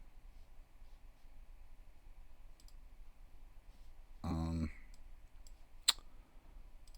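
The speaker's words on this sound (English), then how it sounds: "Possibly that's me clicking on the wrong thing, but I blame it on the cursor." A computer mouse gives a short burst of rapid clicks, followed a moment later by one sharp, isolated click, heard close up over a quiet room background.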